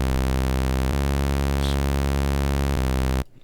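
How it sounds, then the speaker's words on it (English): A Reese bass synth patch built in NI Massive holds a single thick, buzzing, detuned drone. It stays steady and loud for about three seconds, then cuts off abruptly. "Starting to sound similar to like a Hoover bass or something"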